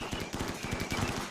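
Rapid bursts of gunfire in the colony-sim video game RimWorld, repeated cracks in a steady run-and-gun exchange, moderately loud and fairly continuous with no talk over it.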